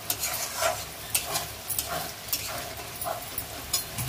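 A dal omelette fries on a high flame, giving a steady sizzle with regular scraping strokes of a spatula across the pan, close and fairly loud.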